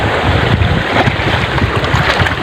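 Rough open sea slapping and surging around a small fishing boat out with its nets in deep offshore water, a steady, loud broadband wash of water and wind noise with no voices.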